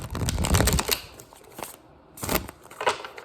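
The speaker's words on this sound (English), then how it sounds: "I wanted to shuffle the City Mystic deck a few more times" A City Mystic card deck being shuffled, with bursts of riffling card noise in short close clusters separated by brief pauses.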